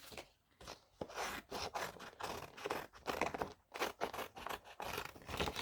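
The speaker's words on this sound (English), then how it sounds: "I'll just fussy cut these out" Scissors fussy cutting shapes out of magazine pages, with steady, repeated crisp paper snips and rasping slices close up that continue with only short pauses.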